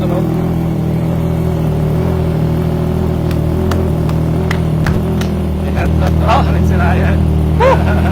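A Triumph Trident 660 motorcycle idles with an aftermarket exhaust, a steady low rumble held throughout while someone talks over it close by.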